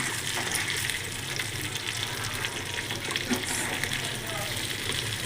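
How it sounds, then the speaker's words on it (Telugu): Fish frying in oil in a pan at home, a steady dense sizzle and crackle filling the whole stretch, close and even in level, with a faint voice in the background. "ఈ ఫిష్ ఫ్రై ఎక్కడ వరకు వచ్చిందో చూద్దాం"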